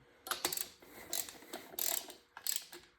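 Ratchet clicking in short bursts while snugging ARP cylinder head studs on a Teksid 4.6 four-valve engine, several quick rapid-pawl runs separated by brief pauses, close and fairly quiet.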